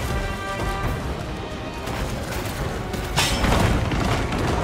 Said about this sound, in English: Everything is exploding here!